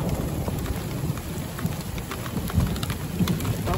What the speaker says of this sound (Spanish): Ahorita ojalá que siga lloviendo.